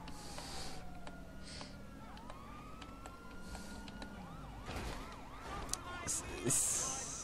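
Police car sirens in the GTA V police mod LSPD:FR, several wailing and yelping tones rising and falling over steady background rumble, growing denser and louder toward the end.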